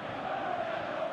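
A stadium crowd in the football game PES 2019 reacting to a good passage of play, a dense, steady wash of cheering and murmuring voices at moderate level throughout.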